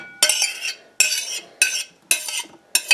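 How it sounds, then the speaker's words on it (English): Chopped food scraped across a cutting board into a bowl, five quick, close scraping strokes in a steady rhythm, each sharp at the start and trailing off. "we're just going to scrape it into our bowl"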